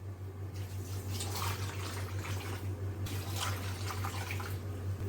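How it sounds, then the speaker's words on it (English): Water runs into a cooking pot in a continuous, moderately loud splashing pour over a steady low hum, near and without any talking. "My mom wants to start adding water to it."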